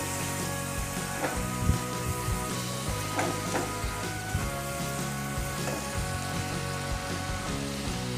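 Pumpkin sabzi with jaggery cooking in a pan, giving a continuous soft sizzle with scattered scraping and stirring knocks throughout.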